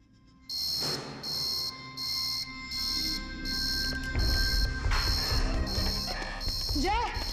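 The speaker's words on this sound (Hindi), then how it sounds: "मेडिकल बे में अलार्म बजा, शायद वहां कुछ गड़बड़ है।" A medical bay alarm beeps high and electronic in a steady repeating pattern of about seven pulses, loud and near, while voices and commotion rise underneath.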